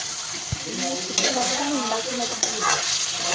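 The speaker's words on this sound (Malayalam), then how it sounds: "അങ്ങനെ നമ്മൾ ചിക്കൻ ഇട്ടു വേവിക്കാം." Chicken pieces cooking in a pan for a chicken roast, a close, steady sizzle with stirring scrapes and a couple of sharp utensil knocks against the pan.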